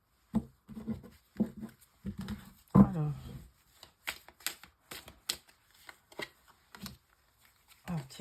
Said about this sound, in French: nous prenons l'oracle d'Annabella